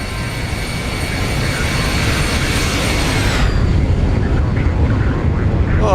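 Jet blast from an airliner in a flight simulator roars as a broad, steady, loud rush of engine noise with a high whine that fades partway through, leaving a lower continuous roar.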